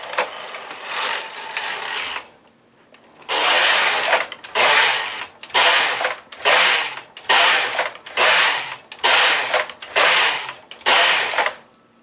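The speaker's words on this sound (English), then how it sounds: "I'm threaded up and I'm going to knit a few rows." A knitting machine is run across a few rows for an I-cord cast-on while a dragon scarf is made. After one long pass, a brief pause follows, then about eight rhythmic back-and-forth carriage strokes, each a loud close mechanical rasp.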